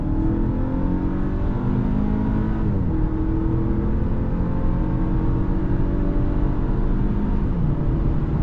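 A 2024 Audi A6 Limousine S Line with a 204 hp engine accelerates on a highway, a loud continuous engine drone rising steadily in pitch with a brief dip partway as the car gains speed.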